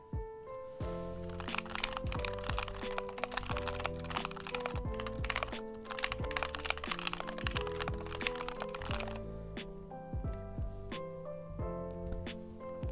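Clacky typing on an Alix40 mechanical keyboard, a heavy aluminum-cased board: a dense, steady run of close, bright keystrokes that continues throughout with no talking.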